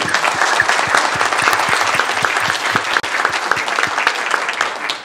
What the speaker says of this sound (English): we can give her a round of applause now